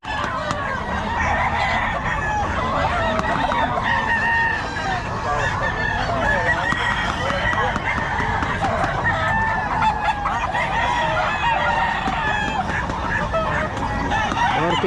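Many chickens at a festival expo, hens clucking and roosters crowing loudly and repeatedly, close by, with people chatting in the background.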